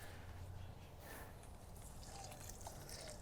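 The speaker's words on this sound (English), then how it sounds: "I just pour it around all my trees" Liquid fertilizer pours and trickles steadily onto garden soil around fruit trees, a soft continuous splashing with faint drips, quiet and close.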